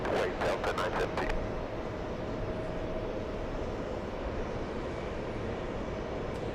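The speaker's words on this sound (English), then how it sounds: "Let's go for the next takeoff." A Delta airliner roars on the runway during takeoff at an airport, a steady broadband engine noise heard from a distance, with a few clicks at the start.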